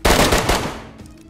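A rapid burst of automatic gunfire in the video game DayZ cracks out loud and close, several shots in quick succession before fading off.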